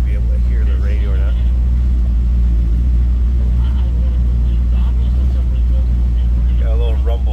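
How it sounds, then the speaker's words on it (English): A 1961 Chevrolet Bel Air two-door sedan idles with a deep, steady low rumble throughout, loud and constant, while someone talks intermittently over it. "Got a little rumble coming out of it."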